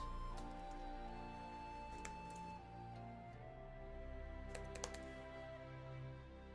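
Computer keyboard typing heard faintly under steady game music and ambience, with a few sharp clicks spread across the stretch.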